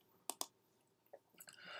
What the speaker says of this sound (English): We can create a package by right clicking